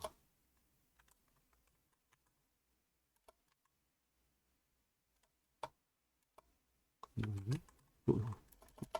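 Sparse, faint taps of typing on a smartphone's on-screen keyboard sound in near silence, then a short burst of speech comes at the end.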